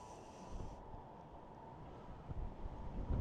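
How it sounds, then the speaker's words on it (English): An outdoor gust of wind buffets an open-ear earbud's microphone, a low, rough rushing that swells louder toward the end, with no talking. "got a nice gust of wind going on"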